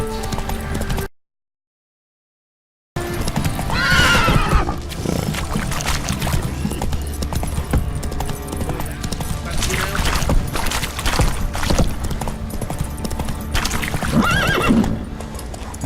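Roach, a horse in The Witcher 3: The Wild Hunt, gallops with steady clip-clop hoofbeats and neighs loudly several times over a busy game soundscape, with a short silent gap near the start.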